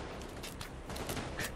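Rapid game gunfire from Payday 2 at the Heat Street heist, a dense continuous burst of shots, fairly faint and steady throughout.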